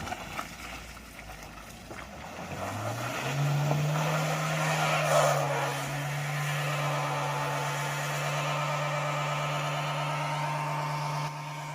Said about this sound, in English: our car got stuck in a tricky patch